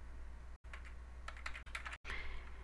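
Quick bursts of keystrokes on a computer keyboard, close and quiet, in an irregular typing rhythm with two short pauses between runs.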